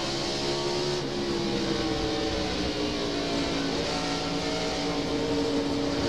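NASCAR stock cars racing at the 2000 Food City 500, a steady loud roar of engines droning continuously at close range without a break.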